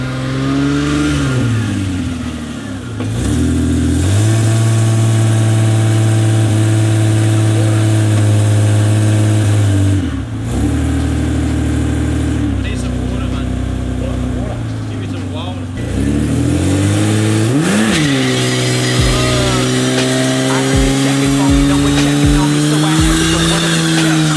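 Old wagon car engine idling and revved with the throttle, loud and close, with rising and falling revs, a couple of sudden cut-outs and restarts, and someone talking over it.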